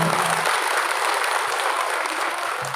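Loud, dense applause from an audience at an organization's gathering, a continuous roar of clapping that holds steady throughout the short stretch with no speech over it.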